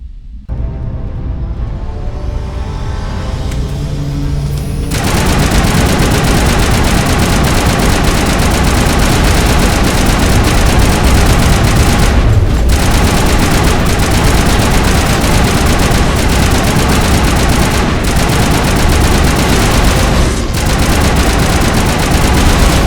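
Heavy turrets firing in Mass Effect, a loud sustained roar of rapid automatic shots over a deep rumbling drone, building up within the first few seconds and continuing relentlessly with brief dips.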